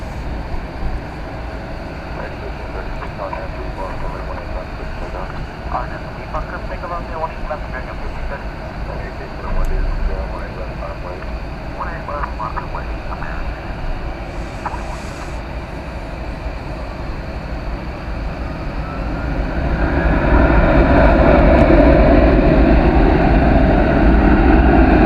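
American Airlines Airbus A321 jet departing DFW Airport for Sacramento, a continuous engine rumble that swells louder toward the end as the takeoff roar builds, with faint voices under it.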